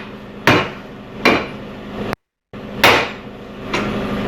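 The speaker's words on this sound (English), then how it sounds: "I can just give it a couple of whacks and this should pop right off." Four sharp hammer whacks strike a Ford Escape tie rod end, evenly spaced and close, each a loud metallic crack fading quickly, with a brief silent gap between the second and third blows.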